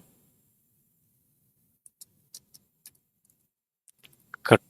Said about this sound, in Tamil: நான் தங்கிலீஷ்லேயே நான் டைப் பண்ணுறேன்